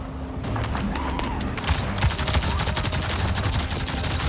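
A turret in the video game Avatar Frontiers of Pandora opens up with loud, rapid automatic gunfire. A quieter stretch with a low hum gives way to a dense, sustained stream of shots.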